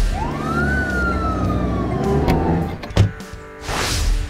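A Playmobil police car siren rises in a single sweeping wail, then tapers off amid clattering toy handling noises and a short thump.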